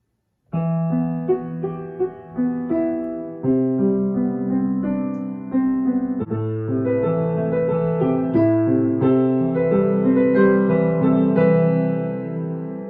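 Piano playing a melodic passage with chords, steady and fairly loud throughout, no voices.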